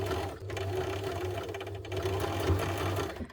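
Basic domestic sewing machine stitching a blind hem into fabric, a steady close whirring hum with rhythmic needle clatter running continuously throughout.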